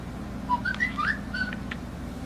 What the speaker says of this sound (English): That's my happy whistle.